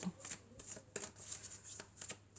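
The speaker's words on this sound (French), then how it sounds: "on va prendre quelques cartes de l'oracle de la triade" Oracle cards from a triad deck are handled and shuffled in a quick series of crisp riffling flicks and soft slides, close and clear, with no voice over them.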